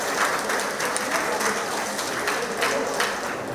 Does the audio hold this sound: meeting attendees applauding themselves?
yes